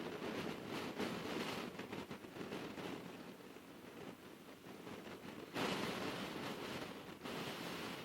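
Steady, loud wind rushes and buffets the microphone outdoors during a cold-weather ride, a continuous roar that briefly swells stronger near the end.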